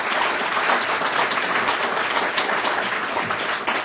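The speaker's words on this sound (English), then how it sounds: "Let's give our respondents a round of applause." A debate audience at the City Club of Cleveland applauds steadily, a dense even wash of clapping that holds at full level throughout with no talk over it.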